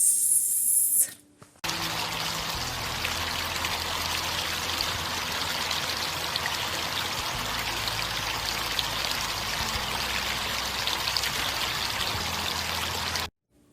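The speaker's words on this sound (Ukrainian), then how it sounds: "Промовляємо, як дзюрчить струмок." A babbling spring stream burbles steadily and fairly loudly for over ten seconds, a continuous close trickling rush that starts after a brief pause and cuts off abruptly at the end.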